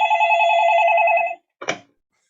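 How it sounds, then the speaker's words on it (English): A telephone rings with a steady, loud electronic trill lasting over a second, then a short, lower burst follows after a brief pause; there is no talk over it. "Phone ringing here."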